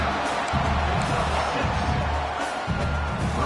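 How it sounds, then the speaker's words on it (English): Loud football stadium crowd roaring during a 4th down play, a dense sustained wall of cheering that never lets up. "This crowd busting the decibel meter and trying to will a 4th down stop."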